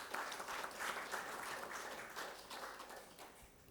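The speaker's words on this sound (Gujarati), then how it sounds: "એ ક્ષણને આપણે તાળીઓથી વધાવી લઈએ." Applause from an audience at a literary book inauguration event, a continuous, fairly distant patter of many hands clapping that slowly tapers off.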